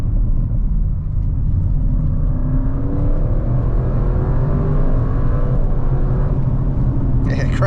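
A 2024 Audi RS 6 Avant accelerates up through the gears on a drive, its engine a deep, continuous rumble with rising pitch sweeps as it pulls hard. A voice speaks over it.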